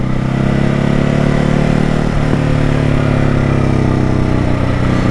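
A 2021 Ducati Hypermotard 950 SP runs with its stock Euro 5 exhaust, a loud, close, steady engine drone with a throbbing low hum and a brief rev blip midway, no speech.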